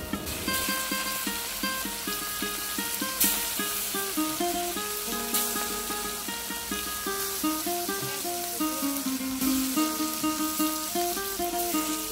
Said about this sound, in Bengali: মাছগুলো লবণ, হলুদ আর মরিচের গুঁড়া দিয়ে মাখিয়ে তেলে একটু ভেজে নিব।